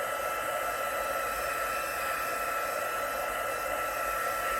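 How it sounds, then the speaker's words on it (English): A heat embossing tool blows steadily over wet watercolour on a window sheet, a continuous close, loud airy whoosh with a motor hum, unbroken and with no talking. "we're going to take our heat embossing tool, and we're going to dry it and kind of push it around everywhere"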